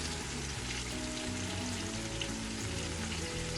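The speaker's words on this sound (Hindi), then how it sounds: "टमाटर को तकरीबन 2 या 3 मिनट तक हम पकाएंगे।" Chopped tomatoes cook in a pan for a mutton pulao, giving a steady, close sizzle and frying crackle that runs unbroken from start to finish with no talking.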